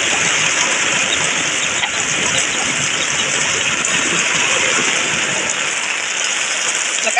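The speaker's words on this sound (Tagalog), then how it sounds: "Lakas ng ulan." Heavy rain during a strong typhoon in the Philippine countryside, a dense, steady roar of falling water pouring on surfaces, constant and close with no pauses or voices.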